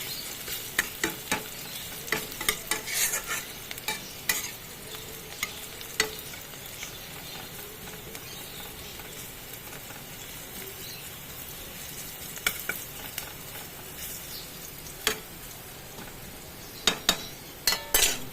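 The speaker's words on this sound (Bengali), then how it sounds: "পেঁয়াজগুলো একটু ভালো করে ভাজতে হবে" Onions sizzle steadily in a pan for a Bengali lentil dish with jute greens, under a continuous frying hiss broken by scattered clinks and scrapes of a stirring utensil against the pan, with no talking.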